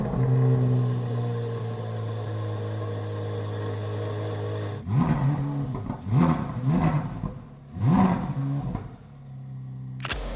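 A Corvette's new motor fires up with a sudden bark after a low idle hum, then revs sharply three times in quick rising and falling roars, close and loud.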